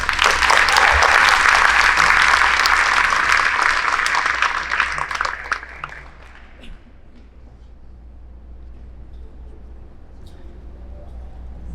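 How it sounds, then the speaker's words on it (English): A crowd at a senior awards assembly applauds loudly for about six seconds, then the clapping thins and fades into quiet room noise. "Please give them a round of applause."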